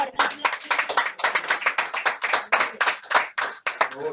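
Rhythmic hand clapping from a small group at a live religious teleconference, with sharp, close claps repeating in quick irregular bursts and voices talking and calling out over them.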